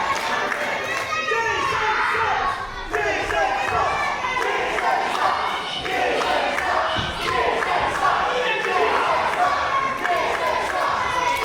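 Loud wrestling crowd at a live pro wrestling show, a dense sustained roar of shouting and cheering voices with scattered thuds, steady throughout.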